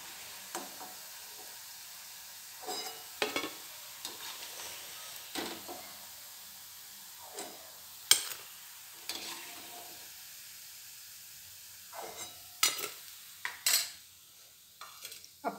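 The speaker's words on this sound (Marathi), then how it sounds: "आपले बाकीचे वडे पण आपण तळून घेऊया।" Vadas made from leftover chapati frying in oil, with a soft ongoing sizzle broken by scattered clinks and scrapes of a utensil against the pan, some sharp and close.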